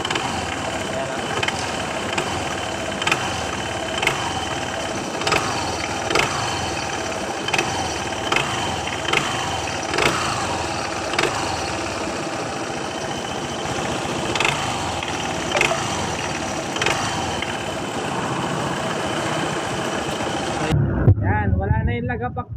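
A Honda ADV 160 scooter engine with a worn slider and v-belt runs close by, a steady idle broken by repeated rhythmic knocks and revs, with speech over it, before the engine cuts off abruptly at the end.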